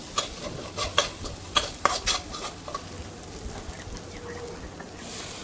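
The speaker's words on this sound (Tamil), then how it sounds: "இப்போ நம்ம பஞ்சு பொடி போட்டுக்கணும் வளர்த்தபடி போட்டுக்கணும் நல்லா வதக்கணும்" Spices being sautéed in a pan for chicken kothu idiyappam, a close run of rapid spoon scrapes and clinks over a steady sizzle, the stirring easing off into a softer frying hiss.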